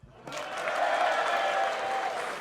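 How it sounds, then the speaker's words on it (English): Live theatre audience bursting into a short round of applause and scattered cheers, a dense, steady wash of clapping that swells after a brief pause and holds to the end. "And a round of applause"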